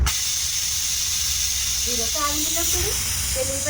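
Mustard seeds, chana dal, urad dal and dried red chillies sizzle in hot oil for a cabbage paneer fry tempering, a steady close hiss that runs throughout while someone speaks briefly over it.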